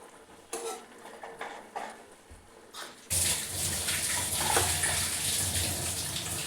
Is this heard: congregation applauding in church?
no